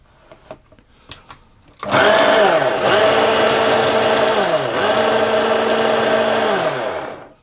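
A food processor pulses tart dough ingredients with salt for an apple almond tart, roaring loudly in two long bursts that each wind down, after a few quiet knocks at the start.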